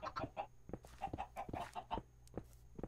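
Chickens in a video game cluck in short, quick bursts, several soft calls close together at a quiet level with no voices over them.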